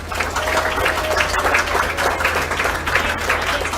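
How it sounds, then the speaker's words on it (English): Audience applause for a speaker at a community coffee gathering, a steady roomful of clapping hands that stays even in level throughout, with no talking over it. "So big round of applause for Tarrah."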